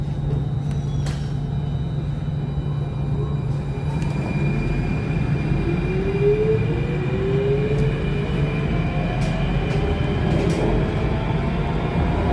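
An SMRT Circle Line C830 metro train runs between stations toward HarbourFront, a loud continuous rumble with rising motor whine and rail noise throughout, no voices.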